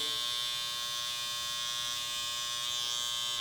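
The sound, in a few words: electric hair trimmer shaping beard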